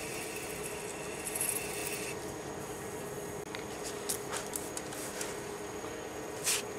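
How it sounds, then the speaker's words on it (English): Hand sanding a piece of acrylic with sandpaper, soft continuous raspy rubbing strokes, faint and close, with a few brief scratchy accents and no talk. "Next step would be sanding."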